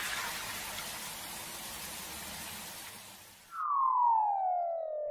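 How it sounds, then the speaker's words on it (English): Cartoon rain: a steady, broad hiss of falling drops for about three and a half seconds, then a louder, clean whistling tone that slides slowly downward until the end. "rain makes puddles."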